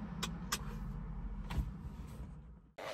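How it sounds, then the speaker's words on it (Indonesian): A car moves past on a residential street, a low rumbling engine with a few sharp clicks and knocks, then the sound cuts off abruptly near the end. "Ini karena ada mobil lewat"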